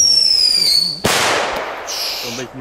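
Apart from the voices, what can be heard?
fireworks exploding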